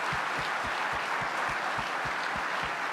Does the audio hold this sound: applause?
yes